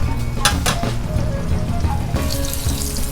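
Egg and cheese chaffle frying in a pan, a steady close sizzle with crackling and a few sharp pops and scrapes, no talk.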